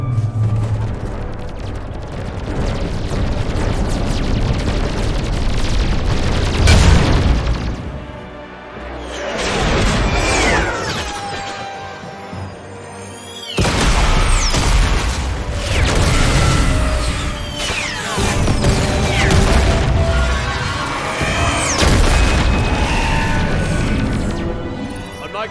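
Heavy weapons fire and explosions in a Mass Effect battle, with dense rapid gunfire, crashing booms and sweeping sci-fi effects that sometimes drop away briefly, loud and chaotic throughout.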